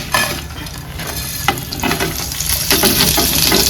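Coriander seeds and onion frying in hot coconut oil, a steady close sizzle with scraping stirs and a few sharp utensil clicks, growing louder toward the end, no voices.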